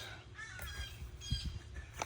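Several birds caw and squawk in a front yard during yard work, a few harsh calls standing out at moderate distance over steady outdoor background noise.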